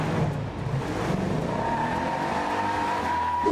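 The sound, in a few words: 1970 Dodge Challenger RT 426 Hemi driving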